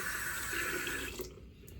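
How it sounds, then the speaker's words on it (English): Tap water runs steadily into a sink, a broad continuous splash that stops abruptly after about a second, leaving a faint dripping trickle. "excuse the water."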